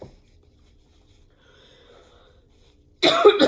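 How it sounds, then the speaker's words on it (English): Harsh, loud bursts of coughing from a person with cough asthma, breaking in abruptly at the end after near silence, several close rough hacks in quick succession. "This is what happens when you have cough asthma."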